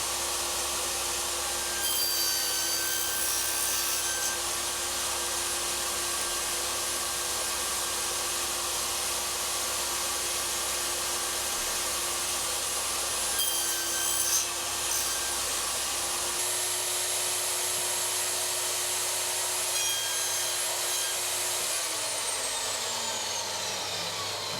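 A power saw cuts wood on a box joint jig, a steady high-pitched whining drone that holds for about twenty seconds, then drops in pitch and winds down near the end, with no talk over it.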